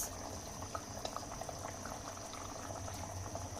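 Water bubbles at a rolling boil in a pot before hilsa fish goes in, a soft, continuous gurgle and pop heard alone at low volume.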